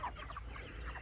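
Farm chickens cluck softly in a brief burst of low murmuring calls, close by with no talk.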